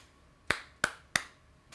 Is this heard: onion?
no